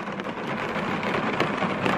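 Heavy rain pours steadily outdoors while hiking in Congaree National Park, a loud continuous roar with a low rumble of thunder underneath, no voices.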